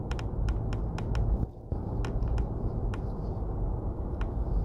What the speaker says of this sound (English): it makes this little rattling, ticking, knocking noise.